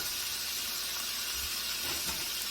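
Seasoned chicken sizzles in a skillet, a steady close hiss with no breaks and no voices over it.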